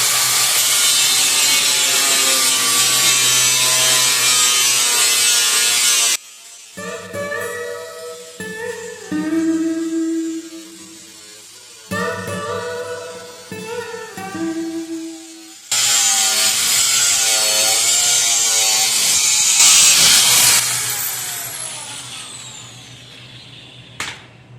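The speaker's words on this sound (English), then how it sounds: "Just trim it out with a cutoff wheel." A cutoff wheel trims rusted body metal on a Jeep YJ: a loud, harsh grinding screech that runs for stretches, breaks off into short chattering cuts with pauses between, then returns and fades as the wheel spins down.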